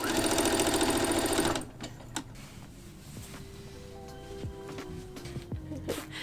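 A sewing machine stitches a fleece sweater in a loud, rapid, close burst for about a second and a half. It then stops, leaving faint clicks and handling noises.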